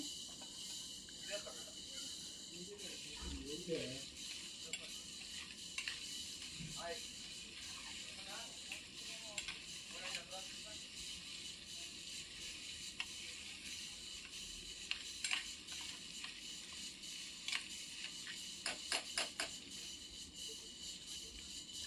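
Mutton curry sizzles in a pan with a constant hiss, while scattered soft scrapes and taps of stirring come through faintly, and a person talks quietly over it.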